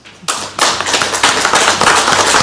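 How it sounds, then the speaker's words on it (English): Applause breaks out at a county board meeting, a small group clapping moderately loud after a short quiet start, the claps irregular and dense without any talk over them. "let's give them a round of applause"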